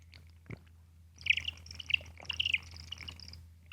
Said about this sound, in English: Did you hear that bird tweet?